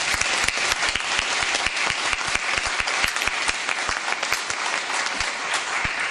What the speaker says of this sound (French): que je vous demande à nouveau d'applaudir si vous voulez faire